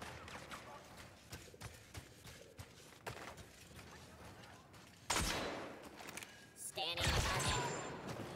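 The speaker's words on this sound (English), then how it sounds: "Sounds like there's a firefight up ahead over here." Distant blaster firefight in Star Wars Battlefront 2, scattered sharp shots and bursts in the background, then a louder close flurry of fire and explosions near the end, with a player talking over it.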